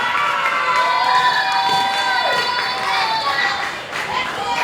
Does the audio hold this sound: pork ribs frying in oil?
no